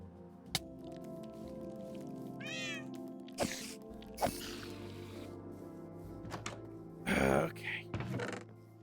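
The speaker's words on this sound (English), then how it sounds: "because I really wanted the cat to be my friend" A cat meows in a video game, likely Minecraft: a couple of short mewing calls among scattered game thuds and clicks, fairly close, with brief louder bursts near the end.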